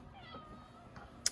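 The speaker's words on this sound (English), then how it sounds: "Oh, my cat's crying." A pet cat meows softly and briefly at close range, a short plaintive cry in a quiet room.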